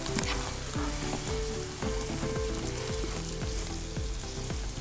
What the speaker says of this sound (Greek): Θα τα ανακατέψω μέσα και θα βάλω στα πιάτα μου αυτό το υπέροχο το χοιρινό.